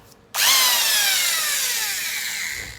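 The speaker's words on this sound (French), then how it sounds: "je vais essayer de faire un petit trou ici, de le percer avec une perceuse" Electric drill boring a small hole into a Brembo brake caliper kit part on an Audi, a loud steady whine that starts abruptly after a brief quiet moment and runs on with a slowly falling pitch.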